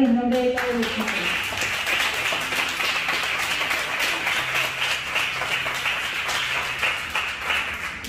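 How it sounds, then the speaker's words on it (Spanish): Audience applause at a book presentation at Musarte Motril: dense, steady clapping from a crowd that lasts the whole stretch, with a brief voice at the very start. "te doy un aplauso muy grande"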